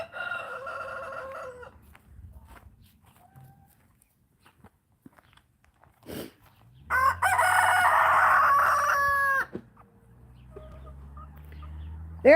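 A rooster crows loudly nearby, with scattered hen clucks and softer crowing around it, then a long close crow dominating the middle.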